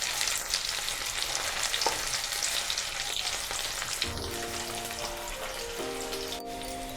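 Potato pieces fry in hot oil until golden brown for Gujarati-style dum aloo, giving a steady, dense crackling sizzle throughout, with a few stirring scrapes and a brief tonal hum partway through.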